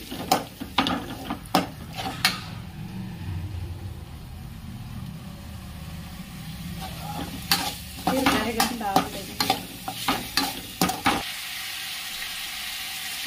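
Tomatoes frying with mashed eggplant in a pan for baingan bharta: a low steady sizzle broken by bursts of sharp spatula scrapes and clacks, quieter in the middle, with no talking.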